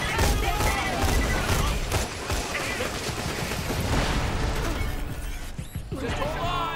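Shotgun blasts in Borderlands: The Pre-Sequel during co-op play, loud repeated booms and crashes layered over chaotic gunfire and voices throughout.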